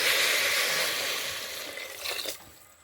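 A jug of water pours onto rice in a cooking pot, a steady close splashing rush that slowly fades, ending in a brief louder gush and a quick taper.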